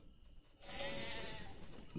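Sheep bleating in a forest village city-building video game, a brief game sound effect rising after a quiet start and holding steady, with no talk over it.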